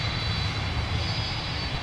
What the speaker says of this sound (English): UPS Maintenance is taking the 767 out for a spin.